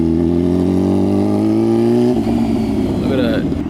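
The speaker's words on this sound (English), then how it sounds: "She's still learning how to use the throttle, how to turn." A motorcycle is ridden by a learner who is twisting the throttle. The engine revs in sustained tones that shift partway through, then give uneven bursts, heard close and loud with a voice briefly over it.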